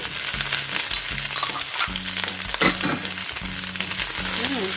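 Carrots and celery stir-fry in a pan, sizzling loudly and steadily up close, with repeated scraping and tossing strokes from stirring at a regular rhythm.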